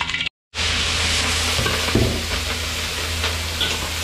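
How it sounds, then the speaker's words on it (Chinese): Food stir-fried in a wok at a small takeaway kitchen in Guangzhou sizzles and hisses steadily, with scraping stirs and a low burner roar, after a brief silent gap at the start. "开始这个炒菜了啊。"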